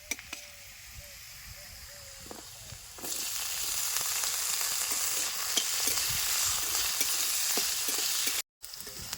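Chopped potatoes and onions sizzle in a pan during village-style home cooking, the frying jumping louder after a few seconds and holding steady, with a scraping stir now and then and a brief cut near the end.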